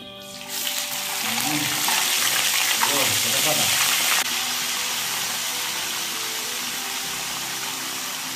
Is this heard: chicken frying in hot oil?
yes